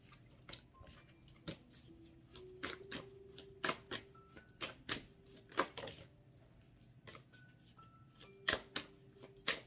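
Tarot cards being shuffled and handled during a card reading make quiet, close papery flicks and taps in irregular bursts, with faint tones sounding in the background.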